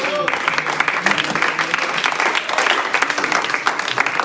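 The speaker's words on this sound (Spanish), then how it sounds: "Den un aplauso al Señor." A church congregation bursts into applause, lively crisp clapping from many hands filling the room, with voices calling out underneath throughout.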